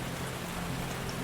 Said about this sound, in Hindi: उस रात तेज बारिश हो रही थी।